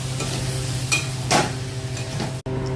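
Chickpea masala with chili paste being stirred in a pan, a steady close sizzle overlaid with a few spoon scrapes and knocks against the metal, with no voices.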